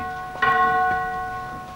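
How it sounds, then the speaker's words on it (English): A single resonant bell strikes once and rings out with a long sustained tone that slowly fades, loud and clear with no voices over it, during a 1996 Dracula stage musical. "The bell tolls 3."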